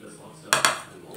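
A metal kadai (wok) is set down on a kitchen stove with two quick, close metallic clanks in a row, then the room goes quiet.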